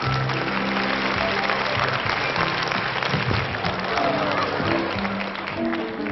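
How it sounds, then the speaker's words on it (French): A television studio audience bursts into sustained, dense applause, a steady wash of clapping that holds at even loudness throughout, with a little crowd murmur mixed in. "C'est le petit Philippe qui arrive et on l'applaudit très fort."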